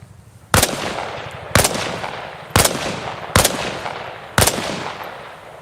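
Rifle shots fired on a training range in the video game Arma Reforger, five sharp loud cracks spaced about a second apart, each trailing off in a short echoing decay.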